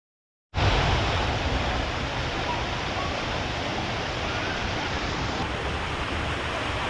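A steady, loud rush of falling water begins abruptly and continues unbroken, a dense wash of noise heard close with no voices.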